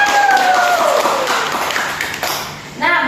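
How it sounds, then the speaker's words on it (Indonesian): Students in a classroom give a short burst of applause that fades after about two seconds, with voices and a sliding tone over the start and a brief tonal sound at the end. "Tepuk tangan dulu"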